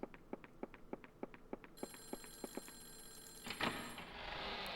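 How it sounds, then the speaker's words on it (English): A telephone rings in the PS1 horror game Clock Tower, giving a rapid series of sharp, evenly spaced bell strikes, followed by a sustained electronic hum and a burst of noisy rustling toward the end. "there's a phone call in this room"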